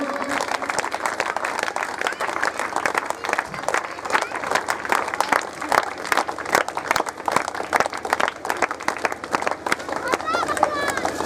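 Crowd applause at a Buddh Vihar Vijay Diwas 2021 gathering welcomes Siddharth Maurya to the stage: dense, steady clapping that lasts the full stretch, with a voice talking over it.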